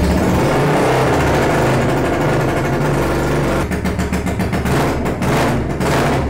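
Honda XLR 125 Scrambler motorcycle engine running loud and close after reassembly, a steady buzzing drone that turns into a rapid choppy pulsing in the later seconds, with no speech.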